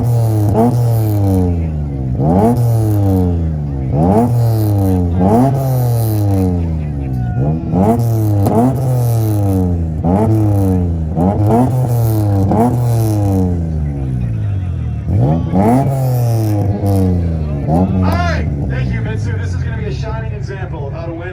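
Two street cars, a Ford and a Mitsubishi, trade repeated two-step rev bursts at an import rev battle in Tulsa, Oklahoma, loud and close, with crackling limiter pops in a steady rhythm and crowd voices faintly underneath.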